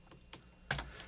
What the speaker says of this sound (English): we'll use the keyboard shortcut Control+